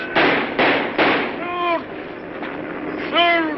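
Sharp repeated gunshots in a 1936 film scene, several loud bursts in quick succession, with shouting voices overlapping the blasts.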